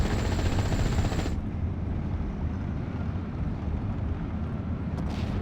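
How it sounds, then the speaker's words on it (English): Artillery strike from the WWII strategy game Steel Division: Normandy 44 on the Pointe du Hoc map: a loud, continuous rumble of heavy blasts and gunfire that eases after the first second, then rolls on steadily without speech. "Really, really nice artillery strike there from Val"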